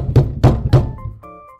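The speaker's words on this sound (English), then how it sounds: "an urgent banging on my office door" Urgent banging on an office door: three heavy, evenly spaced thuds close by, followed by a faint ringing tail as the knocking stops.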